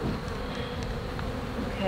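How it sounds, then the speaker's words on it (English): A swarm of honey bees buzzes in a dense, continuous drone, close and steady, with no talking. "it's like an explosion of bees"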